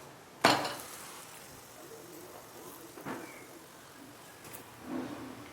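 A stuffed potato aloo paratha flipped on a hot pan, one sharp slap at the start followed by soft low sizzling and a couple of faint scrapes, close and quiet.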